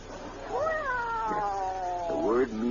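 A cat meows in a long, drawn-out cry followed by a second rising, wavering meow, close and clear, amid a radio comedy scene.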